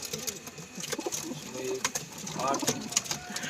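Pigeons coo softly in the background among light fluttering and rustling, with someone talking over them nearby.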